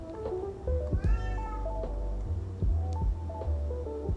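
A house cat meows loudly and repeatedly close by, a series of drawn-out, rising and falling cries in a quiet indoor room.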